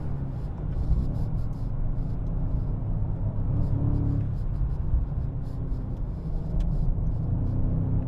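BMW M5 engine rumbling steadily during a lift-off oversteer drift, a continuous low drone that swells briefly around the midpoint, with a person talking over it.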